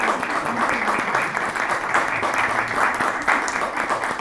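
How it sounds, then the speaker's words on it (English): A church-hall audience breaks into welcoming applause for visiting guests, a full steady wash of many clapping hands sustained for several seconds, fairly loud and close. "We can welcome you with an applause for being here today."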